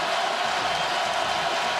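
Roaring stadium crowd at a 2012 Clemson vs Georgia Tech college football game, a dense, constant wash of cheering and shouting with no distinct voices or breaks.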